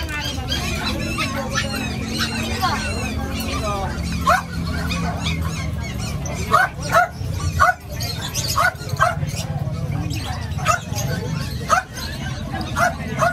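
Dogs yip and bark in short bursts during an outdoor dog-training session, the calls scattered across a busy, noisy background with people talking nearby.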